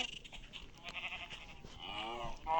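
Farm animals in a survival video game bleat and call, goat- and sheep-like cries rising over a busy background, moderately close with a louder burst at the end.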